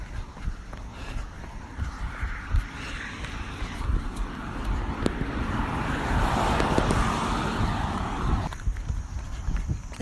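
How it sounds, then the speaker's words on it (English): Road noise fills the cabin of a moving car, a continuous broadband rumble and hiss that swells a little in the middle before easing, with no talking. "I apologize for the road noise."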